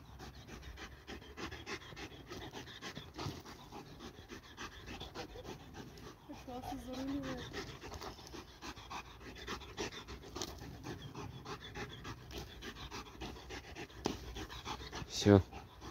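A dog pants rapidly and rhythmically close by for a long stretch, with outdoor background noise and a few brief louder bumps near the end.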